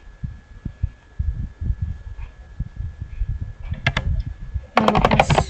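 A computer keyboard used at a Linux command prompt produces soft low thumps and then a burst of sharper, closer key clicks near the end, with a steady faint hum underneath.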